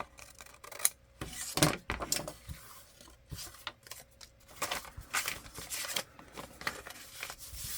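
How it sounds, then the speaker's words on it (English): Scissors cutting off the bottom flap of a paper envelope, a series of close, crisp snips and rustles of paper spread over several seconds with no talking. "so I'll just cut it off where I initially folded"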